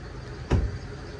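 A car locks with a single short, muffled clunk, heard once against a quiet background hum with no voices.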